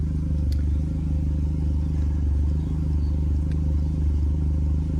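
A Yamaha 70 outboard motor running steadily just under idle, a low, throbbing engine drone with a constant pulsing rhythm, close and even in loudness throughout, with no talking.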